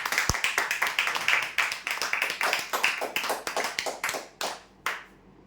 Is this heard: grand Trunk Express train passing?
no